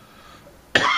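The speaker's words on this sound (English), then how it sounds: "Got a cough again." One short, sharp cough erupts loud and close near the end after a quiet stretch.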